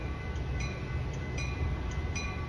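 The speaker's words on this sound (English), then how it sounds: "BNSF train number 1242 to Chicago Union Station is arriving in approximately 10 minutes." A BNSF commuter train near a Downers Grove station gives a steady low rumble with faint periodic high tones, heard alone without voices.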